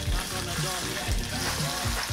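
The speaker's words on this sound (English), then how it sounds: "Grill lightly only surface of pork." Pork surface searing lightly in a hot pan for Korean bossam, a steady sizzle and crackle of frying close by, with no talk.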